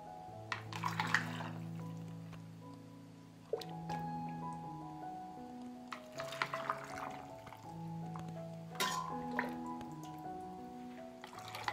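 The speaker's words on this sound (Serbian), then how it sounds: "i sada sipamo preliv" Brine is poured into glass jars packed with bacon, giving soft trickling, dripping and gurgling liquid sounds in a few separate bursts, close up and quiet, with no talking.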